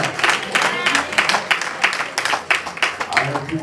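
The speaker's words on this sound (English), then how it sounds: "I heard people clapping on the twos" A church congregation claps along on the twos during old-school worship music, sharp hand claps falling in a steady rhythm over music and voices.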